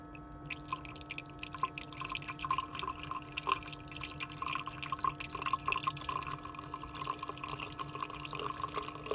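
Coolant trickles slowly into the radiator of a BMW E46, a quiet, close series of irregular drips and light splashes over a faint steady hum.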